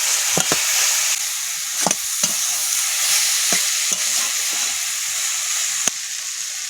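Taro, potato and beans sizzle in hot oil in a pan while khichuri is cooked, a steady hiss broken by a few sharp scrapes and clinks of a stirring utensil.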